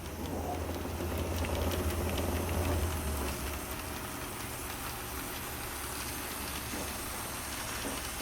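A model train runs on a home layout, producing a steady rumbling hiss with faint clicking of wheels on track, a low hum easing off after a few seconds.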